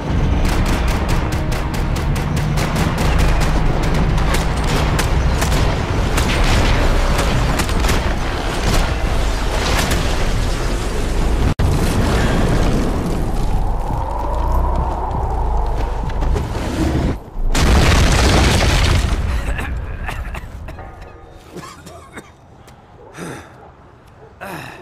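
Intense action scene from the video game Max Payne 3, loud and dense throughout with gunfire and explosive booms, a big blast near the end followed by quieter scattered shots and gasps, voices shouting amid the chaos.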